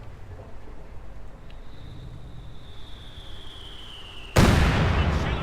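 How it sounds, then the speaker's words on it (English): Heavy mortar rounds in the Company of Heroes 2 strategy game: a faint whistle and low rumble give way to one sudden loud blast that keeps roaring to the end. "Heavy mortar rounds there trying to make contact with it"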